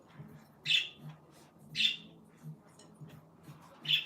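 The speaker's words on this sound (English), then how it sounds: "if you guys hear the birds in the back," Three short, sharp bird calls sound at roughly one-second intervals, thin and moderately distant over a quiet background.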